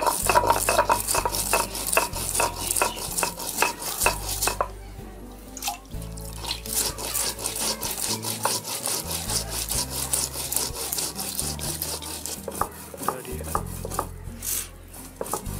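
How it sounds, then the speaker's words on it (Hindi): Spice paste being ground by hand on a sil grinding stone, the stone rubbing back and forth in a steady rhythm of close, loud scraping strokes, with a brief pause partway through. "इसको हम सिल पे ही पीसेंगे।"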